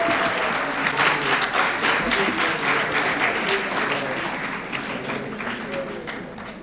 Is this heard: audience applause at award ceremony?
yes